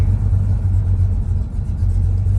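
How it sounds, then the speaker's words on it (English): A Chevrolet C10 truck's engine rumbles low and steady as it slows down approaching a traffic circle, a close, continuous drone heard from inside the cab with no talking. "we're going to have to yield up here at the traffic circle, and I'm slowing down"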